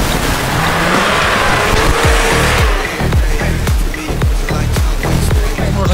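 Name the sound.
VAZ 2107 4x4 driving offroad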